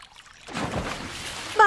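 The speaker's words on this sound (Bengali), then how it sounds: "তাড়াতাড়ি জল ভরে নিই।" Water being filled into a container, a quick splash and gush that starts suddenly and settles into a steady trickling rush, with a voice cutting in at the end.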